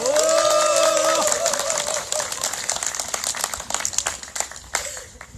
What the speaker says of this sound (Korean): 스스로 함께 박수를 쳐도 좋은 날이라 생각합니다. 박수 칩시다